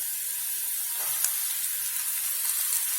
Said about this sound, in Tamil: சேர்த்து கொஞ்சம் வதக்கி விட்டுக்கலாம்